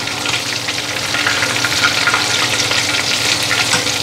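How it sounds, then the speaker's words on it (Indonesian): Steady, loud sizzling and crackling of food frying in a pan, continuous throughout with no talking. "Sekarang kloter berikutnya kita goreng."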